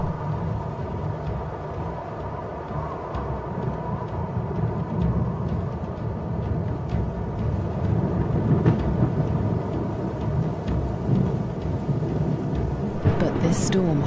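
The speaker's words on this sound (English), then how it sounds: "A storm approaches." Steady broadband rumble of an approaching storm over dry African grassland, with continuous rain-like hiss and low thunder rolling throughout, a sharper crack near the end; a narrator's voice may sit faintly beneath.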